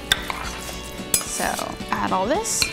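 Artichoke dip mixture being stirred in a bowl, with a spoon scraping and clinking against the dish in short bursts, heard under a voice.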